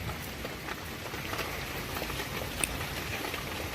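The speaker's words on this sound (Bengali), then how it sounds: "যা টুপুর টুপুর হচ্ছে ওইটা হয়েছে ওই উপরে টিনের চাল থেকে পড়া বৃষ্টির" Steady patter of rain dripping onto a tin roof, a dense soft crackle with occasional louder drops, no voices.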